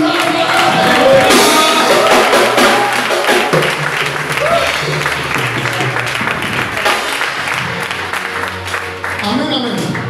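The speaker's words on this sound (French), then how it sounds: "Acclame Jésus de Nazareth" At an ordination ceremony, a congregation applauds loudly and steadily with some cheering. A voice speaks over the clapping.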